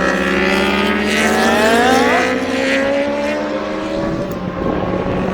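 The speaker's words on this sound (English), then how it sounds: "ZX10 Superbike pulling away." Kawasaki ZX10 superbike engine pulling away during a British Superbike race at Donington Park, a loud close high-revving scream with rising pitch sweeps through the gears, continuous and dominant throughout.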